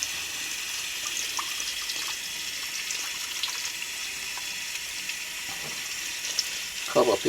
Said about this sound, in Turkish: Ben havalar soğuk olduğu için sıcak suyu açtım.